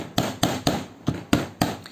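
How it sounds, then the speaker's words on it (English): Hammer taps a part into the frame of a Sig Sauer P226 airsoft pistol: six sharp, evenly spaced strikes, close and distinct, with no talking. "take a hammer or a mallet or a hard tool,"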